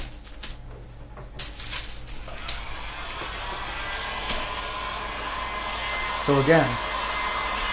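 Hot-air heat gun blowing steadily on the belly of a Scythian bow limb, a continuous broadband rush close by, with a brief voice and a few light knocks near the end.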